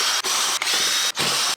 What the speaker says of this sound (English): all of these are a T25 Torx bit to take the lid off the airbox